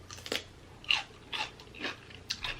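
Someone takes crunchy bites of Maryland lump crab cake or coconut shrimp. Close up, about five or six sharp crunches and chews come in an uneven rhythm, with no talking.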